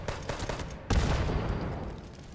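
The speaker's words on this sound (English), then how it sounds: "They explode randomly because of the legendary perk I took." Enemies exploding during Fallout 76 gameplay: a quick cluster of crackling blasts, then a heavier burst with a rumbling tail, close and fairly loud, with no talk.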